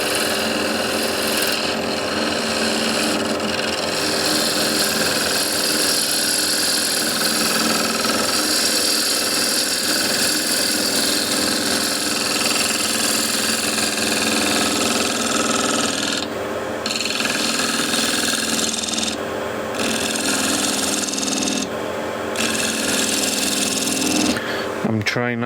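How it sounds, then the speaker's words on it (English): A wood lathe turns a small bowl while a spindle gouge takes a final clean cut, giving a steady, dense whirring hum with gritty scraping throughout and a few brief breaks in the cutting. "But first I want to make this nice final cut. I'm still using spindle gouge."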